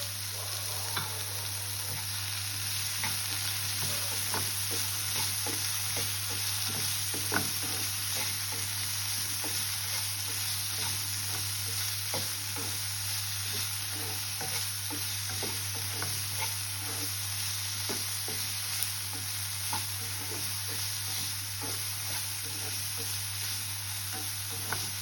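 Green peas fry in a pan for egg Maggi, a continuous even sizzle with a persistent hum underneath and frequent light scraping taps as they are stirred, close up and steady for the whole stretch without talk.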